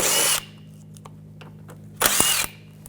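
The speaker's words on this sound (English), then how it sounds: "These back 3 screws, you're going to use a T30 socket for." A power tool whirs in two short bursts with a T30 socket, backing out screws from the underbody shield of a 2011–2018 Volkswagen Jetta 2.0L TDI, with quieter clicks and handling noises between runs.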